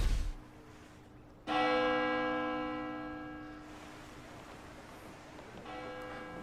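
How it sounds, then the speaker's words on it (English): A deep bell tolls in an animated RWBY scene set on Menagerie, one loud ringing strike with long sustained overtones that slowly fade, followed by a softer second strike near the end. "For whom the bell tolls."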